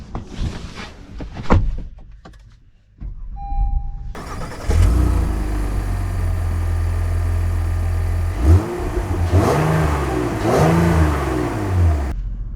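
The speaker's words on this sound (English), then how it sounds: "So, setting off in the Passport." A Sonic Gray 2024 Honda Passport TrailSport SUV pulls away after a few clicks and a short chime, its engine rumbling up through rising revs, with a couple of audible upshifts, close and clear.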